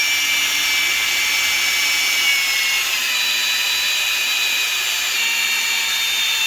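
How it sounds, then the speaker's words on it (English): A steady high-pitched whine of a power drill boring holes with a small bit in a tractor seat runs continuously without pause, close and loud. "So I'll get a small drill bit and drill them."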